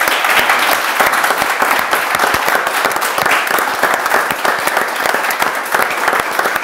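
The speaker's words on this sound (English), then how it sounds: "So a huge round of applause to all of our heroes" A large audience at a healthcare heroes academy event breaks into loud, sustained applause, dense clapping filling the whole stretch evenly without pause.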